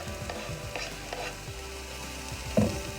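Celery, carrots and beef frying in a pan for beef barley soup, a steady close sizzle with occasional stirring scrapes and clatter, ending in a louder knock near the end.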